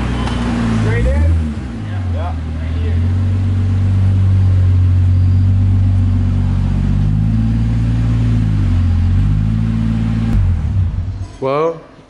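A Nissan S13 Silvia drives along a main road, its engine a steady, close, droning rumble that swells and eases with gentle revs throughout, with people talking inside the car over it.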